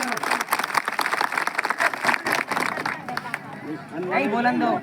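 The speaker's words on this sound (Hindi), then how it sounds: "एक बार जोर से तालियां बजा के इस बात का सम्मान करो" A crowd at a Guru Ravidas Jayanti stage program claps loudly and unevenly amid murmuring chatter, the clapping fading as a voice takes over near the end.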